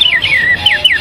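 A person at a Wampanoag powwow whistles in imitation of a bird call, giving a series of bright, sliding high chirps, loud and close, about five quick calls.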